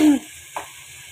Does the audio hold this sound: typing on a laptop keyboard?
no